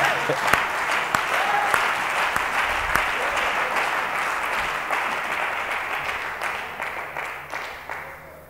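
A church congregation applauds to acclaim the Lord in loud, sustained clapping that fills the room, fading slightly toward the end.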